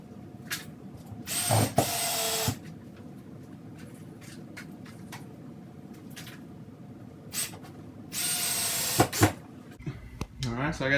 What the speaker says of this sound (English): I take 1 5/8 inch screws and just screw them into the studs